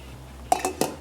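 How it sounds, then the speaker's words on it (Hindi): Dry Bake Parlor spaghetti goes into a pot of boiling water, making three quick, close clattering clinks against the pot over a low background hum. "पानी उबलना शुरू हो गया है तो हम इसमें ऐड कर देते हैं बेक पॉलर का स्पैगेटीज़ का पैकेट"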